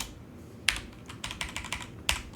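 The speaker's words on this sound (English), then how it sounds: "I can type in the new email address here" Keys clatter on a computer keyboard in short close bursts, quiet isolated taps followed by a quick run of keystrokes and a final clack.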